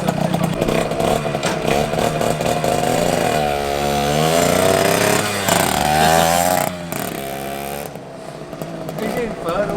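1986 Yamaha YSR 50 miniature two-stroke motorcycle engine running a little rich, a loud, close buzzing rasp with revving pitch sweeps, while people talk over it.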